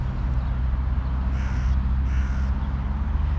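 A crow caws twice in quick succession, moderately distant, over a steady low background rumble outdoors.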